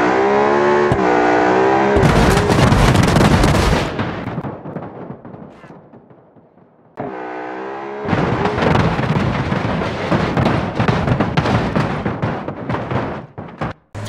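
A La Ferrari supercar in the BeamNG.drive driving game revs and slams into a large hamster wheel, with loud engine roar, heavy booming impacts and rumbling crashes that fade before a second burst of loud crunching.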